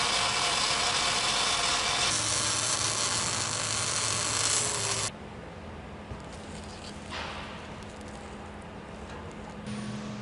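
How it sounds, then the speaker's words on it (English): Welds on metal handles being ground and polished on an industrial production line: harsh, continuous abrasive noise runs loud for about five seconds, then drops to a quieter machine hum with faint scraping. "the areas around the welds undergo further grinding and polishing to smoothen the surfaces"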